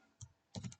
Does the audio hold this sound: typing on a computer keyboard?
yes